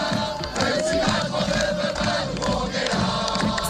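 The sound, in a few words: protest crowd chanting in France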